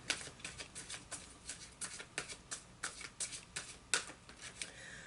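Archangel oracle cards are shuffled and pulled by hand, giving a quick run of soft papery riffles and flicks in an uneven rhythm, close up and quiet, with no voice.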